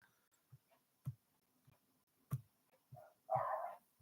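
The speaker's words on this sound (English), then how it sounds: "I didn't think it was that loud, the dog barking." A dog barks several times at a distance, short faint barks spaced irregularly, the last few a bit louder and closer together.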